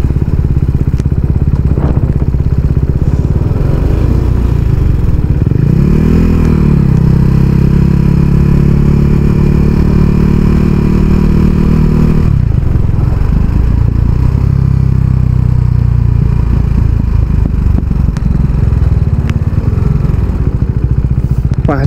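A motorcycle coasts downhill without gear on a hill road, its engine hum droning steadily and close over wind and rattling clatter, with a brief swell midway through.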